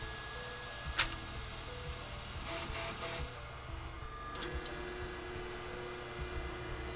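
A 3D printer finishes printing a cylinder with a steady motor hum and whirring stepper tones, broken by a few short higher-pitched buzzes and clicks of head movement, close and continuous.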